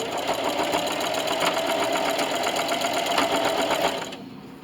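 A sewing machine stitches and backstitches through denim with a steady, fast mechanical chatter that runs loud and close for about four seconds, then stops abruptly.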